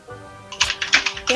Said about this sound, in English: if you hear typing on my end